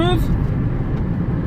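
A Fiat 500 with a Dualogic automated gearbox, faulty and jumping out of gear, cruising in fifth: a steady low engine and road rumble fills the cabin, and a brief voice sounds at the very start.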